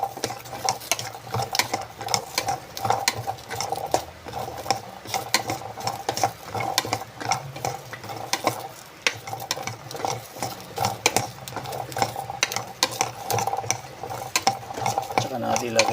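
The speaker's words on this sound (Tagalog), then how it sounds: "Halu-haluin lang natin ganyan hanggang sa maluto-luto ng konti. Isasangag natin." Garlic being stirred and dry-fried in a pan without oil, with continuous close scraping and clacking of a utensil against the pan in a steady, busy rhythm and faint sizzling beneath.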